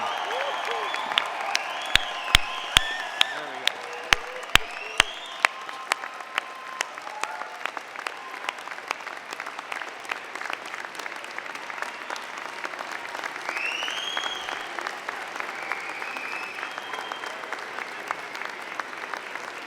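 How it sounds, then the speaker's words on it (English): A large convocation crowd of friends, family and platform members applauds the June 2017 graduating class in a sustained, even wave of clapping that carries steadily throughout with a few sharp nearer claps early on. "I ask your friends, family, and members of the platform to join me in applauding the amazing graduating class of June 2017"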